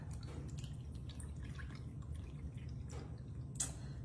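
Coconut water pours in a steady, soft trickle with a faint splashing drip, close by and unbroken for a few seconds, with no one talking.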